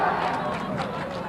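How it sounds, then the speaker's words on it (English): Home crowd at a Revere girls' basketball senior night game against Beverly swells into a loud, steady roar of voices and cheering, with dense talk mixed throughout. "Revere crowd gets loud."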